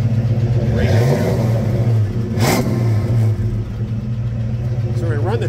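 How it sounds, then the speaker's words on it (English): A 1966 Ford Mustang convertible's 289 V8 revs up through a trumpet exhaust, with a couple of rising blips and a sharp crack between them over a close, throaty idle. "This trumpet exhaust has such great power."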